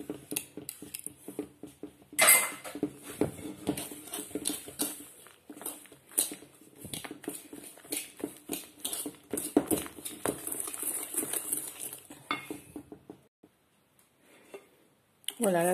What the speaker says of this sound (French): ça, on va l'incorporer avec le fouet